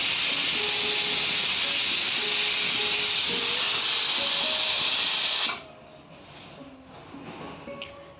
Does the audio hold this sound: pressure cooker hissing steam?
yes